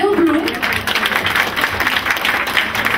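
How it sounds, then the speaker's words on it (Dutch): Fashion show audience giving a warm round of applause for a model named Bill Bloem, sustained clapping from a crowd with some voices mixed in. "Een overweldigend applaus voor Bill Bloem."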